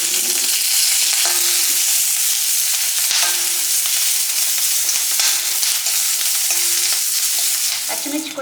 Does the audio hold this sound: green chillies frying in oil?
yes